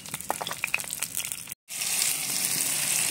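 Chopped onion and tomato hit hot oil with cloves, cardamom and a piece of cinnamon, bursting into a loud, steady sizzle after a brief pause, preceded by softer crackling and clatter.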